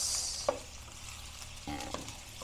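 Chopped tomatoes dropped into a pan of sautéing garlic and onion, a quiet hiss of frying with a couple of sharp clinks and a brief scrape of stirring.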